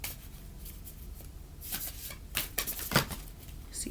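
Oracle cards being shuffled by hand, a run of soft papery riffles and slides with brief sharper flicks, close and fairly quiet with no talking.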